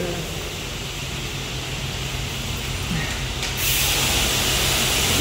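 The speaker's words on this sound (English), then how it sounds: "Spray, John, spray." Pressure washer spraying a Freightliner Coronado Glider truck at a Blue Beacon truck wash, a steady broadband hiss that grows louder and brighter partway through, with no talk over it.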